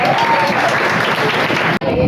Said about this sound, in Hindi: सभी लोग जोरदार तालियां बजाएं।